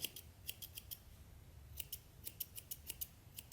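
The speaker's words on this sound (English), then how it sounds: "there could be a little excess wool. You can see on that side. You can trim it a little bit" Scissors snip excess wool from a sheepskin headband in quick, faint, close clicks, grouped in little bursts of cuts with brief pauses between.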